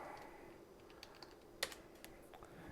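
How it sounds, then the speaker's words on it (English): Keys on a Sun SPARC 20 keyboard are tapped in a short, sparse run of soft clicks, close and fairly faint with one sharper keystroke. "Type reset at the OK prompt."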